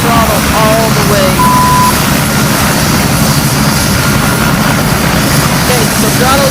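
A Bell 206 LongRanger helicopter's turbine engine runs at full throttle, a loud, steady whine and rotor roar heard close, with a voice speaking over it.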